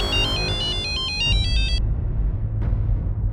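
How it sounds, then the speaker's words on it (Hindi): A phone rings with a bright electronic ringtone for under two seconds, then cuts off, leaving low background rumble. "शिंदे का फोन था"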